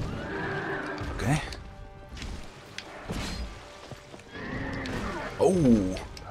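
Horse in the Dark Souls 2 video game neighing loudly twice, a sharp whinny early and another near the end, with hoof thuds and clatter between, while someone talks over it.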